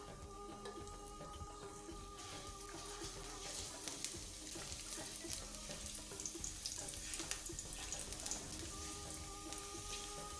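Cumin seeds and two garlic cloves frying in oil in a pan, a steady crackling sizzle with scattered pops and spits throughout, close and continuous, no talk.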